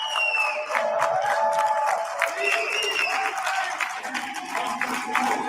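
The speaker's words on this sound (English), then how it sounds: "It doesn't sound like that many people applauding." Sparse applause from a thin audience in a largely empty venue, with steady, moderate clapping that is not very dense and runs throughout, and voices murmuring over it.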